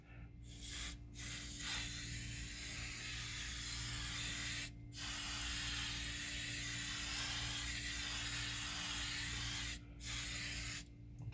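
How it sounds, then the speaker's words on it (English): Hairspray from an aerosol can misted onto model train layout ground cover, three long steady hissing bursts separated by short pauses, close and clear with no talking. "I'm going to put some more hairspray on here."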